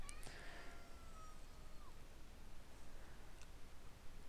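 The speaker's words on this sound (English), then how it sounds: "Sorry if you hear my cat" Pet cat Gruber lets out a faint, brief meow near the start, quiet and a little distant in an otherwise still room.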